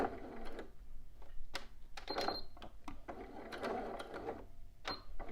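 A home sewing machine topstitches a dress bodice in several short bursts of rapid mechanical clatter separated by brief pauses and small clicks, fairly quiet and close.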